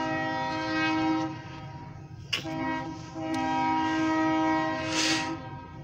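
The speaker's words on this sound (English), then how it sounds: "We got an OC&T, very short grain hopper train" A train horn blares in long sustained blasts over the low rumble of a short OC&T grain hopper freight train passing in Titusville, with brief clanks between.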